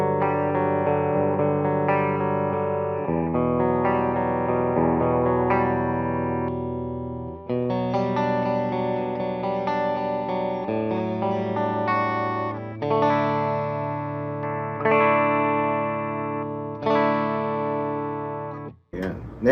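Clean electric guitar chords and single notes from an S-style guitar through a BOSS IR-2 clean amp setting ring out with a shimmering, slightly chorused tone, played continuously for several phrases before cutting off.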